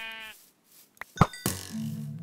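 A sheep bleats in the video game Minecraft, a short wavering bleat at the start, then a few knocking hits and a second bleat, close and clear.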